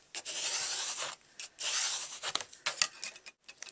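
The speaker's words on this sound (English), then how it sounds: "this is an old Tupperware cake decorator I'm going to use to burnish it down." Paper being burnished down with an old Tupperware cake decorator, a close dry rubbing and scraping in several strokes of about a second each, separated by short pauses.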